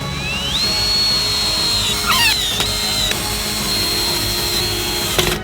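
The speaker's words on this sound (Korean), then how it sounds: "그들 사이에 넓은 보드를 놓고 나사로 조립해주세요" A power drill whirs steadily, pitch rising then holding, as it drives screws to join wide wooden boards with a small jigsaw-cut stand piece, with a brief squealing burst and sharp clicks midway, close and loud.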